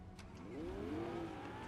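Car driving in the Fortnite video game, a steady engine drone that rises in pitch as it accelerates, continuous and fairly close for the whole stretch.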